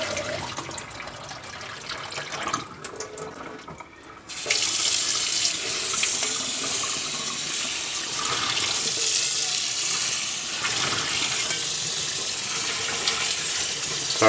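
Tap water runs steadily into a colander while potato seeds are rinsed, hissing and splashing close by. It gets noticeably louder after a few seconds and keeps a constant rush, with no talking.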